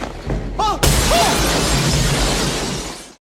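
Loud glass shatters in a film as a man is thrown against a pane, a sudden crash followed by a long spray of falling shards, preceded by a brief voice and whooshing sound.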